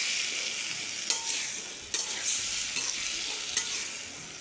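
Chopped potatoes are stir-fried with spices in a pan for a bata fish curry, giving a steady hiss of sizzling broken by a few sharp scraping clinks of the spatula against the pan.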